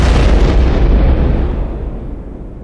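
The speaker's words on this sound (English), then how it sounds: "I keep shooting his ass" A loud tank cannon blast in War Thunder booms and rolls out alone, a single heavy explosion decaying over a couple of seconds.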